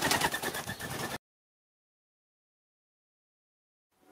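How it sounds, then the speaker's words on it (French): Laughing doves kept by a breeder coo in a short close burst of soft repeated notes lasting about a second, followed by near silence. "pour finir avec les tourterelles"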